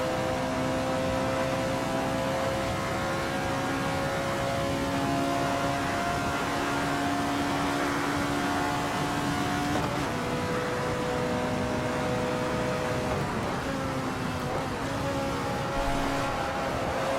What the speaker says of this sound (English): And I love that engine noise.